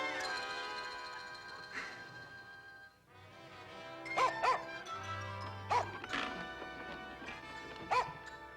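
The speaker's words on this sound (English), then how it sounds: "bad dog" Short dog barks from Fremont, a pet dog, sound over a steady harmonic music bed, with several distinct yips spaced irregularly through the second half at moderate loudness.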